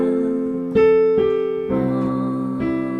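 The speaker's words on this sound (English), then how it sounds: "It's an 8th note fill," Sustained piano chords with a few quick added eighth notes moving between them, a gentle, steady fill played up close without any voices.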